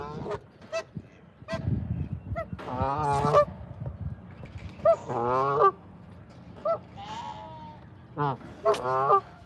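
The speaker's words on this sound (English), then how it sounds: "Minus the Canada goose in the foreground" Canada geese honk repeatedly at close range in a waterfowl enclosure with black swans and mute swans, loud nasal calls in bursts over a low ambient background.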